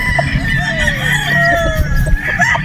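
A bulik gamecock rooster at a game farm in Batangas crows loudly and close, one sustained call with clucking around it.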